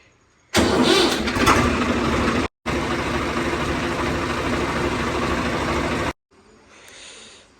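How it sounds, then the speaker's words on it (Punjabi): A tractor engine cranks and catches outdoors, then runs steadily at a loud, even idle for several seconds before cutting off, leaving faint background noise. "ਟਰੈਕਟਰ ਕਰਦੇ ਆਪਾਂ ਸਟਾਰਟ"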